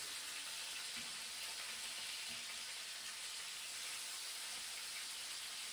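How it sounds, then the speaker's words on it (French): Rabbit legs frying in a pan after being turned, a steady, even sizzle and hiss throughout with a couple of soft knocks; no talking. "ça a doré, on les retourne, et on fait la même chose de l'autre côté"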